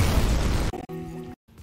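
An explosion detonates in the video game Dead Space Remake, a loud, close blast with a heavy boom that breaks off abruptly into a brief ringing tone and then a short silence.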